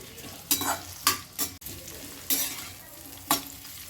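Bitter gourd pieces frying in oil for a tamarind kuzhambu, a steady sizzle punctuated by five loud spatula strokes against the pan in uneven rhythm, close by and unaccompanied by voices.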